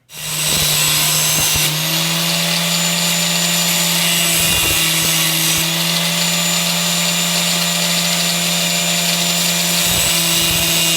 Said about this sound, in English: So I put the grinder into the vise.